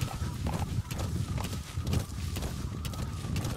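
D-Horse, the horse companion in the video game Metal Gear Solid 5: The Phantom Pain, gallops in a steady, moderately loud run of hoofbeats with a low rumbling background, heard alone without talk.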